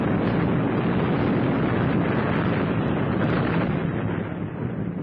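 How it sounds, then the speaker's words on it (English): A massive explosion rocks a building during a street attack, a loud, sustained roaring blast rumble that fills the whole stretch and eases slightly only at the end. "An explosion rocked the building"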